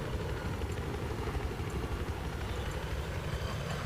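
A steady, droning helicopter rotor roar in the video game Battlefield, with a rumbling low end, continuous and fairly loud throughout, with no pauses.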